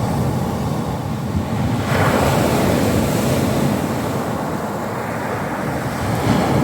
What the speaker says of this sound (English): I'm sorry about the noise of the waves.